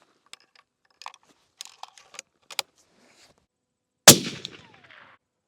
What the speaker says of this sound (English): Just gonna keep shooting here.